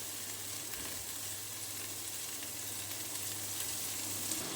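Ground spices with coriander and Kashmiri chilli frying in a pan for aloo gosht give off a soft, even, continuous sizzle, steady from start to finish with no voices over it.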